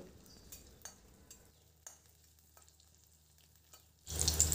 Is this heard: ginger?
yes